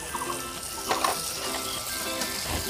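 Cashew nut pieces hit hot oil in a frying pan while moong dal masala cooks, giving a steady, close sizzle with a few brief crackling bursts and faint stirring.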